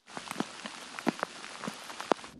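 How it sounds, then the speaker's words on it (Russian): Heavy rain shower pouring down over soldiers' flooded trenches at positions near Shyrokyne, a steady broadband hiss broken by a few sharp splashes and thuds, close and fairly loud, with no talk. "начинается ливень"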